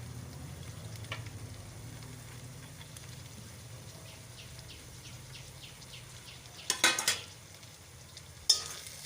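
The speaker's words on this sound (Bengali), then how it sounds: "আবারও ভালো করে নাড়িয়ে চাড়িয়ে কষে নিতে হবে মশলাটি সম্পূর্ণ।" Chicken liver and gizzard masala fries faintly in a pan while it is stirred, a soft, low sizzle broken by a few sharp scrapes of the spoon near the end.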